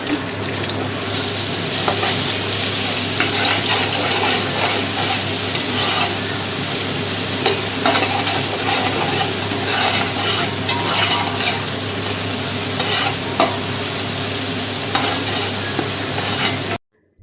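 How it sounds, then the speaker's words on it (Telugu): Ginger garlic paste fries in a pan while being stirred, giving a steady, close sizzle with repeated scraping strokes of a utensil that last throughout. "నేను ఇప్పుడైతే అల్లం వెల్లుల్లి పేస్ట్ అయితే వేస్తున్నాను దీంట్లో"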